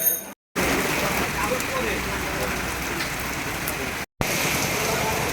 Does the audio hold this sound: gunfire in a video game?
no